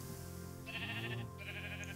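A Minecraft sheep bleats twice in quick succession, two short nasal cries close by over a faint steady background hum.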